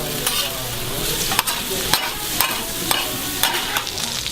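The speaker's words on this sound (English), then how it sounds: "it is still sizzling in its oil" Flaming pork belly sizzles and crackles in hot oil on a stone, mixed with onions, a steady loud frying hiss broken by sharp scraping stir strokes every half second or so.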